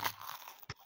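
A bite into a crispy pastry cromboloni with chocolate filling gives a quick crunch, then a second short crisp snap, close and faint.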